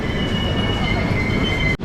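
A passenger train running from Secunderabad to Bhubaneswar rumbles steadily with a faint high whine, heard close up as a continuous roar that cuts off abruptly at the end.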